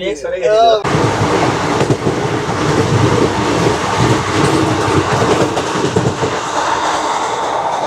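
A train running fast past tea gardens in North Bengal, a steady loud rumble and rattle of the carriages heard from inside, with a brief voice at the very start.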